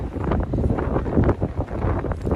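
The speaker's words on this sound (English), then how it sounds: "it is quite windy here" Blustery wind in Japan buffeting the microphone, producing loud, low rumbling gusts that swell and fade continuously.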